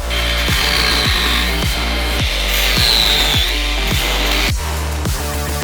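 A hand saw cuts through weld tacks on a car part during VY Turbo drag-car prep, making a loud, rhythmic rasp of quick back-and-forth strokes that repeat steadily, with no talking.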